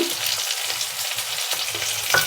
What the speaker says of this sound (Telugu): అల్లం వెల్లుల్లి పేస్ట్ పచ్చివాసన పడేదాకా వేయించుకుందామా